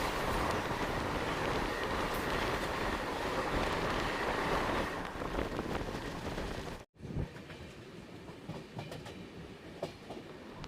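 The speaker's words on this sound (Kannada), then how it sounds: "ನಮ್ಮ ಟ್ರೈನ್ ಈಗ ತುಮಕೂರು ರೈಲ್ವೆ ಸ್ಟೇಷನ್ ಒಳಗೆ ಎಂಟ್ರಿ ಆಗ್ತಿದೆ ಪ್ಲ್ಯಾಟ್ಫಾರಮ್ ನಂಬರ್ 2ಕ್ಕೆ" Yesvantpur–Vijayapura Express rolling into Tumkur railway station toward platform 2, a loud, steady rumble and wheel clatter that cuts out abruptly for a moment, then resumes lighter with scattered clacks.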